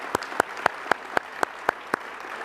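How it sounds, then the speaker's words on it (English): Eight sharp, evenly spaced claps ring out at a steady rhythm over a quiet room tone, sounding like a single pair of hands rather than a full crowd at a formal panel gathering. "Another round of applause."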